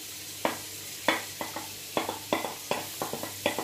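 Onions and garlic fry in butter for an olive tagine, giving a low background sizzle broken by a series of sharp, close utensil knocks and scrapes against the pan at an uneven rhythm.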